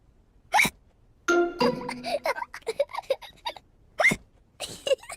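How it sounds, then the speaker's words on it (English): A cartoon pig hiccups after drinking juice too quickly, sharp hiccup bursts at the start and again later, with cartoon voices talking in between. "George drank his juice too quickly, and now he has hiccups."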